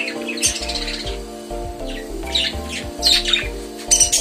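Budgerigars at a bird farm chirp and squawk in short, scattered bursts close by, over a steady background hum.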